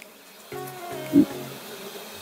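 Honey bees from a colony recovering from American foulbrood buzz at an open hive, a steady low drone with a brief louder swell partway through, close to the microphone.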